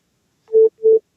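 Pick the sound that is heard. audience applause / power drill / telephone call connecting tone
telephone call connecting tone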